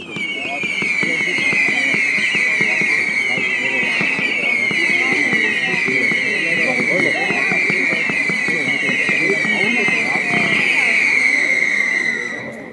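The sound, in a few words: Vuurwerktotaal Wicked Whistle firework battery, whistling silver howlers and bangs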